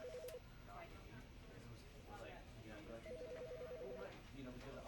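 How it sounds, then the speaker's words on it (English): A telephone rings in the video game The Stanley Parable, with short repeated electronic trills at low volume under talking. "Pick up the dang phone."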